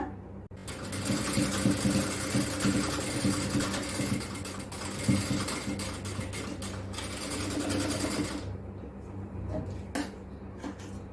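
A sewing machine stitching nighty fabric runs in a fast, steady mechanical whir for several seconds, close and clear, then winds down and stops, with faint handling noises afterward.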